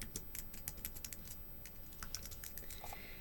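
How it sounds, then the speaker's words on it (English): Quiet, steady typing on a computer keyboard, with quick irregular key clicks close by and no talk. "So type in that person's name."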